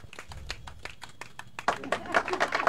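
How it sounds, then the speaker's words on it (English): Scattered claps ring out from an audience at an award ceremony honoring a veteran broadcaster, sharp and fairly close for a second or two before a voice begins talking over the room. "A round of applause for him."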